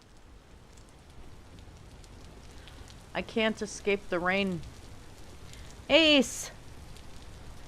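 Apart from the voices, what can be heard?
rain in the video game Vintage Story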